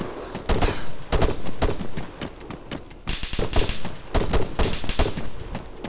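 Automatic weapon fire from a machine gunner in the Arma 3 military video game, loud bursts repeating through the whole stretch with short gaps between volleys.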